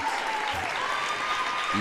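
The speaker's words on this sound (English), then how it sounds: "I can't say that I've ever seen both benches clapping at the same time." Steady, dense applause from both team benches at a boys sectional final basketball game between Northmor and Mechanicsburg, sustained and fairly loud throughout with no pause.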